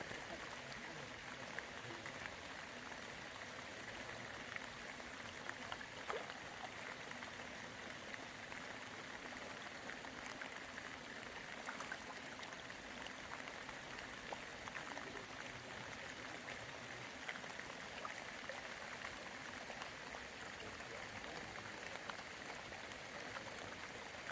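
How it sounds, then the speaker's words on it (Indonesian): Water gushing steadily from a drainage pipe beside a carp breeding spot in the rainy season, a constant soft rushing and spattering wash that stays even and fairly distant throughout. "Ini adalah pipa saluran, pipa air yang terus mengalir deras."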